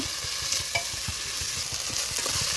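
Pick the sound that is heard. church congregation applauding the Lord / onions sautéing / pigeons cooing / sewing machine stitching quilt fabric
onions sautéing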